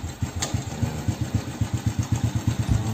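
Honda EX5 Dream (Astrea Prima) motorcycle with a small single-cylinder engine idling close by, a steady rapid putt-putt pulse with even rhythm and no talking.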